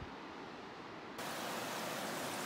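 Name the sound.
Greenwater River flowing loudly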